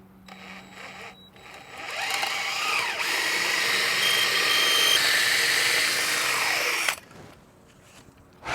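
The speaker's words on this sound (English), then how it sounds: "I'm attaching the trusses with these 7¼ inch long construction screws." Long 7¼-inch construction screws driven into carport roof trusses with a power driver, a loud sustained whirring drive of about five seconds that rises and then stops abruptly, with no talking.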